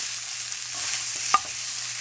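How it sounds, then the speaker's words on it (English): Green beans, onions and spices get stirred together in a pan, a soft, steady sizzle running throughout with one brief scrape of the utensil near the end, close and fairly quiet. "And so I just mix all the spices and the green beans and the onions together."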